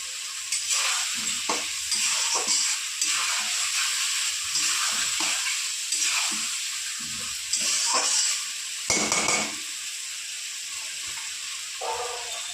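Spice paste sautéed in hot oil for a tilapia curry with flat beans and eggplant sizzles steadily, broken by repeated scraping strokes of a spoon stirring the pan close by.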